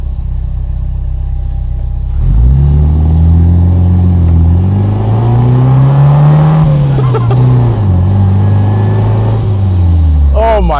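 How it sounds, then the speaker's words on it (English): A 1959 MG MGA 1600 engine revs and drones loudly throughout, with a rising supercharger whine layered over the exhaust note, steady and close. "you can hear the Supercharger whine"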